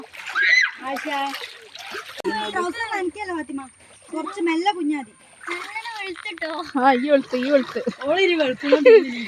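Water splashing as a child bathes, with lively children's voices and adult talk running over it almost throughout.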